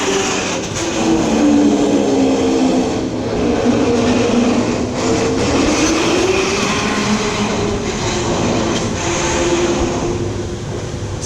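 The Desmo Race motorbike-style launched roller coaster at Mirabilandia in the Ducati World area runs along its track with a loud, continuous rumble and a rising and falling mechanical whine, heard from nearby.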